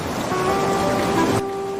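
Heavy rain falling steadily at night as a broad, continuous wash of noise with faint tonal music layered over it, cutting down sharply near the end.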